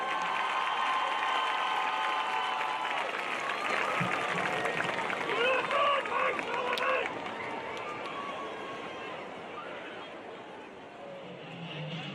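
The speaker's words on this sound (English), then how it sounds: "Let's give one more round of applause for our homecoming court and the homecoming queen, Miss Kylie Fairley." Crowd applause and cheering at a high school football game homecoming court ceremony, a broad outdoor wash of clapping and voices that tapers off, with a public address voice and chatter mixed in.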